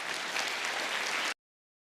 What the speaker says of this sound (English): one more round of applause for Alex